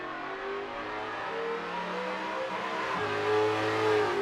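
Race cars on an out lap at Imola in a racing video game, engines droning and shifting at moderate revs, several cars blending in a steady close whine.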